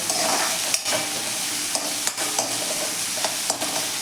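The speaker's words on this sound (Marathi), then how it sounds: "1 मिनिटभर आपण कांदा आणि आलं लसूण छान असं तेलावरती भाजून घेऊया" Chopped onion, ginger and garlic fry in hot oil, a dense steady sizzle close up, broken by a few sharp spatula scrapes and stirring knocks.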